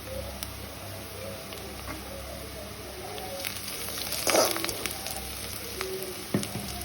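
Onions fry in a pan with dried chillies for a chickpea sundal breakfast, a soft continuous sizzle with a few stirring scrapes and a louder clatter midway, fairly quiet with no clear talking.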